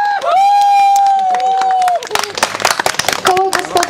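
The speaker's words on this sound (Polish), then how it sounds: "wielkie brawa" At an outdoor village cooking contest, a held voice over a loudspeaker gives way to a short burst of clapping from an audience, uneven claps with crowd murmur underneath.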